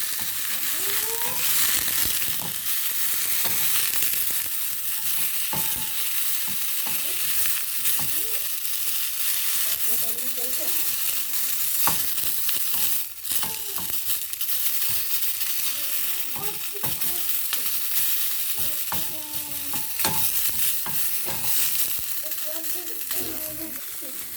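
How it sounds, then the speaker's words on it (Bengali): Cauliflower fries in a pan on a home stove alongside other dishes, a continuous oily sizzle with intermittent stirring scrapes and clinks, while a person talks over it for much of the time. "এদিকে ফুলকপিটাকে ভাজতে নিয়ে নিচ্ছি"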